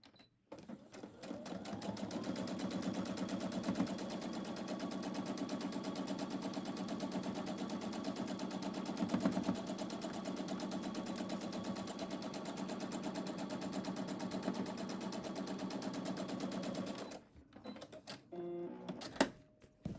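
Sewing machine stitching a quarter-inch seam on a quilt block, a steady rapid mechanical whir and needle chatter running nearly unbroken, then slowing and stopping with a few clicks at the end.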